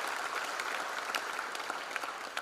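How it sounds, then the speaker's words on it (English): Audience applause for the chief guest at a college freshers' induction program, a large hall of steady clapping heard from a distance, even and continuous with a few crisper claps popping through. "Give a big round of applause for the Chief Guest"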